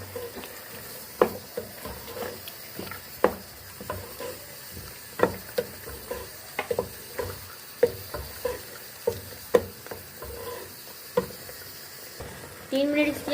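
Ground spinach being stirred into frying potatoes for aloo palak, a spoon scraping the pan in repeated sharp strokes over a steady close sizzle, with a louder clatter near the end.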